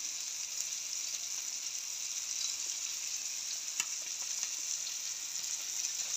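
Fish frying in a home kitchen pan gives a steady, close hiss and crackle with a few sharp pops, holding an even level the whole way through with no voices.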